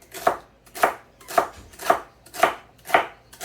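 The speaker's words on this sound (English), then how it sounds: "Just a rough chop." Knife rough-chopping food on a board for a Newfoundland cooked dinner, six sharp evenly spaced chops in a steady rhythm, close and clear with no talk.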